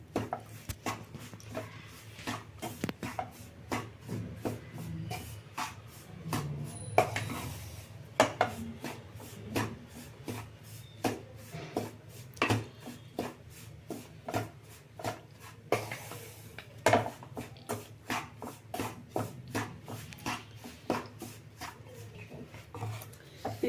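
Ingredients for a healthy laddu being stirred and dry-roasted in a pan, with a utensil scraping and clinking against the metal in a steady, fairly close rhythm of repeated taps over a low background hum, with no talking.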